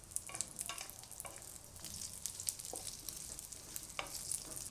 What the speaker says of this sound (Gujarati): તો ખજૂર આપણે આ રીતે શેકી લીધો છે.